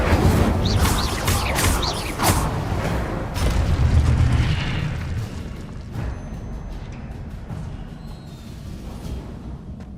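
In Hogwarts Legacy, the Incendio fire spell bursts out with a loud rumbling whoosh and crackling flare that fades into a low roar over several seconds.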